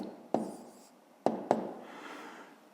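Pen strokes writing out a fifth-grade maths solution by hand, heard as a few sharp taps and short scratching strokes, quiet and close, followed by a soft continuous scribble.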